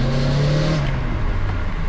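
A turbocharged VW G60 pulls hard under acceleration, its engine note rising in a steady, loud drone with a rough low rumble close to the microphone.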